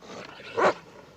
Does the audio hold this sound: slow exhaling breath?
no